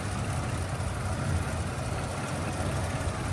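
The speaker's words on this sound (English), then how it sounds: "you can just hear they just purr. It's almost silent, and that will tick over all day" A 1937 Ford pickup's rebuilt 24-stud flathead V8 idles with a soft, steady low rumble, an even mechanical murmur that holds unchanged at close range.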